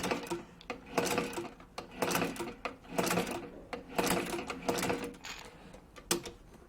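A sewing machine stitches back through the same holes on a Repertoire leather belt, running in steady rapid bursts with brief stops, close and without talk.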